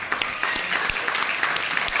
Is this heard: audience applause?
yes